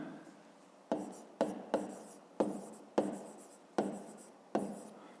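Pen or chalk writing out a math solution in quick separate strokes, seven distinct scratchy marks each with a sharp start and a fading scrape, close and fairly quiet with no talk.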